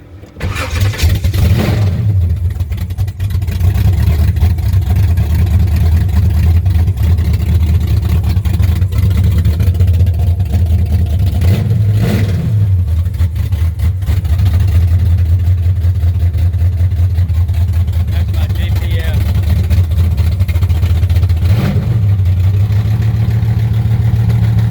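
A 1963 Chevrolet Impala with a 468 big block V8 cranks and fires, then settles into a loud, steady, deep rumble, with a few sharp revs blipping up over it.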